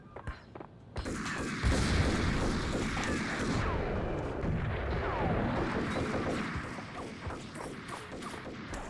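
Gunfire and crashing impacts in the Max Payne game on Xbox, a dense, loud barrage of shots and bangs rolling on for several seconds after a brief quieter start, with no talking.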